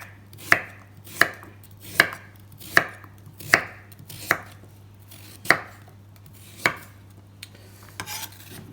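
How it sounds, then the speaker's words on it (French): Knife chopping a carrot into small rounds on a cutting board: about eight crisp, evenly spaced cuts at a steady unhurried rhythm, close and clear, with nothing else heard. "Donc je vais juste couper des petites rondelles de carottes."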